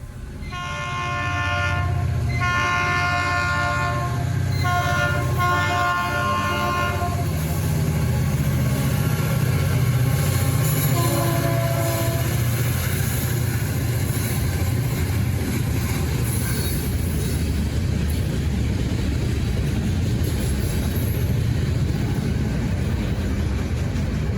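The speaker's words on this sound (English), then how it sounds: "I caught my first glimpse of hope of seeing some FEC railway action as the West Palm local came barreling through" An FEC freight train, the West Palm local, passes close by in East Florida, sounding a loud, repeated horn in three long blasts early on, followed by the sustained rumble and clatter of rail cars rolling past.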